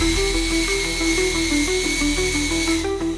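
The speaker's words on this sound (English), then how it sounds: "I grabbed a drill with a soft brush and started removing some of the rust." Electric drill spinning a soft brush to scrub rust off cast iron, a steady high whine with shifting pitch as the load changes, close and continuous.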